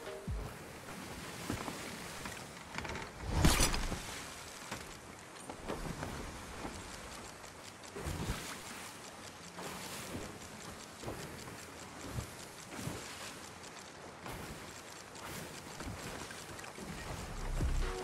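A wooden ship in the video game Sea of Thieves creaks and groans as it sails, with soft wave wash and wind, occasional louder knocks and thuds, steady and moderately quiet throughout.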